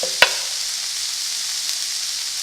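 Garlic cooking in a pan for meatloaf, a steady bright sizzle and hiss close up after one brief clink of a utensil at the start, with no voices.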